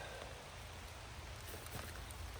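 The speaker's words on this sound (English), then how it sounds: "the rain wasn't meant to happen" Rain falling in a forest, a soft, steady patter and hiss of drops, faint and continuous, with no voices.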